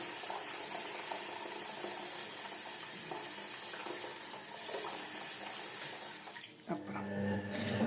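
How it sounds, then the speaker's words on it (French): Water pours steadily from a hose into a container while homemade laundry detergent is being mixed, a constant broad rushing that continues without talk and shifts to a lower, fuller splashing near the end. "je remets de l'eau pour que le tuyau puisse tenir"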